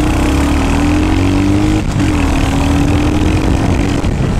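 A Royal Enfield Hunter 350 motorcycle engine pulls hard under load with a loud, continuous drone, rising in pitch, easing briefly at a shift, then climbing again amid heavy wind rush.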